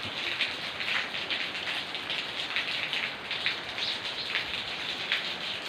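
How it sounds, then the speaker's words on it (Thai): Steady rain falling in Surin, Thailand, a dense continuous hiss with soft patters of drops striking a surface in front of a house, no voices. "ฝนตก"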